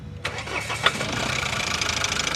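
A Mahindra Scorpio 4WD SUV engine cranks briefly, catches, and settles into a steady rumbling idle, heard up close with no talking.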